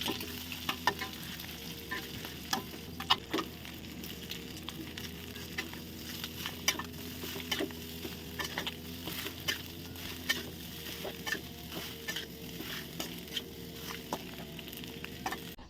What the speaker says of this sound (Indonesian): sebelum pergi di sini saya mau bikin nasi goreng dulu ya seperti biasa untuk, Kakak Cindy.